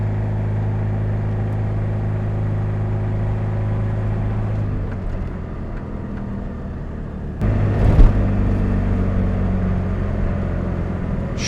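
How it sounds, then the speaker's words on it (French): A Ligier microcar, a French licence-free car, drives with its small engine running as a steady low drone that stays moderately loud and even throughout, dips a little in the middle and rises again with a brief louder surge near the end. "Je trouve que c'est pas une voiture très bruyante."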